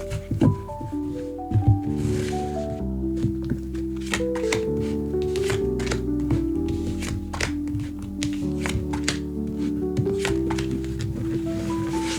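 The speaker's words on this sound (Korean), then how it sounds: "자, 그럼 타로 카드 셔플 시작합니다." Tarot cards are shuffled by hand in quick bursts of crisp riffling and soft taps, close and clear, over a quiet sustained musical backdrop with no talking.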